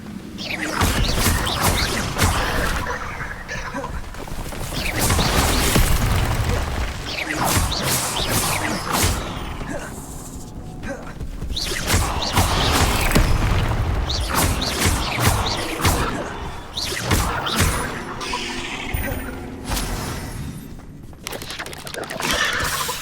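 Spells such as Levioso cast repeatedly in the video game Hogwarts Legacy, with dense whooshes, thuds and crashing impacts layered over game music and shouted spell names, loud and continuous.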